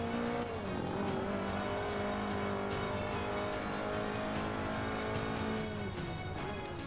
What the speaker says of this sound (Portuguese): vamos que vamos ouvir o ronco dos motores